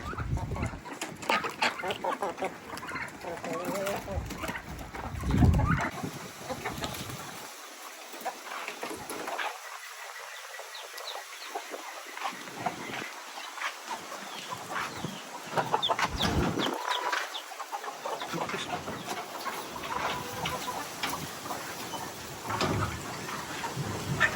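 Backyard pet chickens cluck and cackle throughout, several birds at varying distances, with a steady outdoor background hiss and occasional louder calls.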